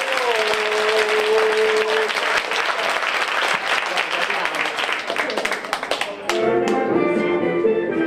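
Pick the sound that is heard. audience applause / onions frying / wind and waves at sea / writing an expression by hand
audience applause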